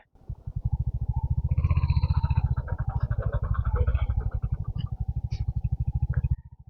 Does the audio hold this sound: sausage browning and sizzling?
no